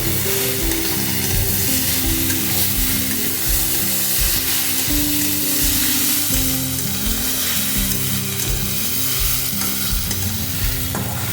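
Spice paste stirred and mixed in a hot frying pan for a pomfret curry, a steady sizzle with repeated scraping strokes of the spoon, close and continuous with no talking.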